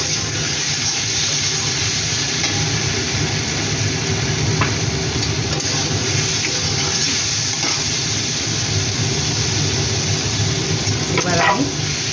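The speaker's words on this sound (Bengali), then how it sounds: "এবার আমি ভাজা আলুগুলো এর মধ্যে দিয়ে দেবো ভাজা আলুগুলো এর মধ্যে দিয়ে দিচ্ছি" Fried potatoes added to hot oil in a pan, with a continuous dense sizzle and occasional stirring scrapes, steady and close throughout with no pauses.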